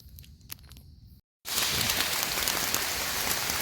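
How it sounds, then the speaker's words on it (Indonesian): Steady, dense rain pours through the forest on Mount Salak during a hike, with a brief dropout before a loud wash of drops takes over; light rustling is heard before the downpour. "Ya guys, hujan ya"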